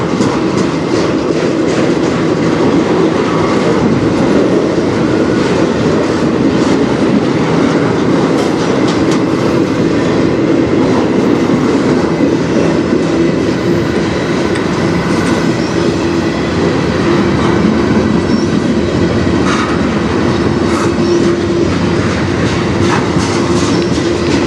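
A freight train on the Strathroy subdivision rolls past continuously at close range, with a steady loud rumble and dense clickety-clack of wheels over rail joints.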